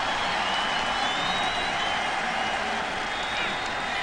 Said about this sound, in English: This crowd comes alive here at Busch Stadium.